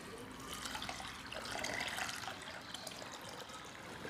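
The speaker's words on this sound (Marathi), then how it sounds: "आता यामध्ये मी पाणी ओतून घेते." Water is poured into a pressure cooker holding washed dal, a soft, steady splashing pour that swells briefly in the middle, faint and close with no talk.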